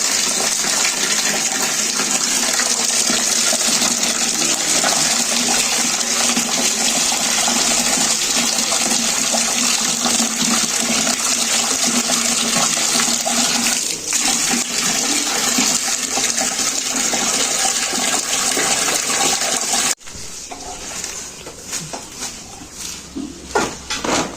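Water gushes loudly and steadily into a fish tank as the water is changed, a constant rushing flow that cuts off abruptly, leaving quieter trickling and dripping.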